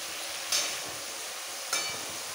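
Green chili paste is stirred into a simmering katla fish curry with cauliflower and potato, a soft steady frying hiss broken by two brief scraping strokes of a spoon against the pan.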